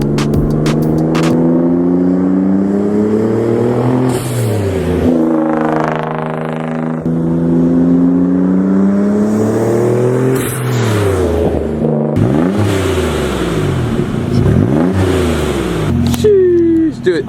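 A Nissan car fitted with a cheap DIY exhaust hack revs repeatedly, its engine note rising and falling in loud sweeping pulls close by, interspersed with idle and some talking.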